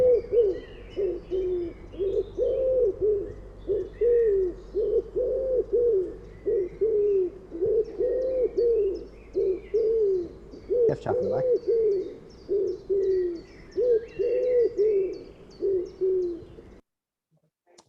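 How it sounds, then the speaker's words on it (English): A wood pigeon sings in Monkstown, Ireland, repeating its soft, hooting five-note coo in steady phrases for a long stretch. A brief knock interrupts midway, and someone speaks briefly near the end. "And that's the song of the wood pigeon."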